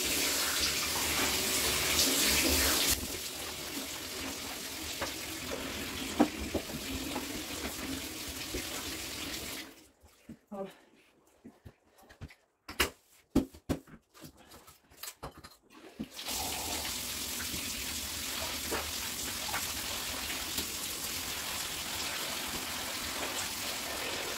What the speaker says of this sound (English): I just want to rinse out that sponge.